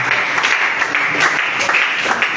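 Congregation clapping during a church sermon, a dense burst of hands with a few louder rhythmic accents, moderately loud and continuous.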